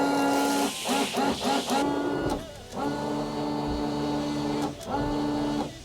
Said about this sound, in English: Now that I've changed the wipers, I better check that the washers work.